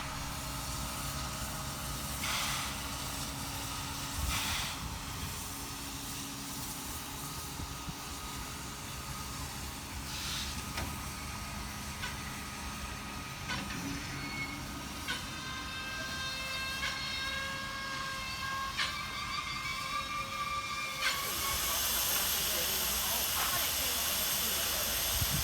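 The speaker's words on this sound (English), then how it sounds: "Locomotive 3001 returning from Buxton, one of its regular steam shuttles, to its base at the New South Wales Rail Museum in Thirlmere" Steam locomotive 3001 rolls into the New South Wales Rail Museum at Thirlmere after a shuttle run from Buxton, with a steady hiss of steam, faint whistle-like tones and soft rumbling, distant and fairly quiet.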